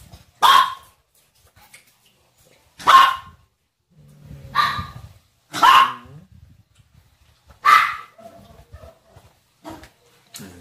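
A sick, listless dog barks five times in sharp single woofs spaced a couple of seconds apart, close and clear over near silence.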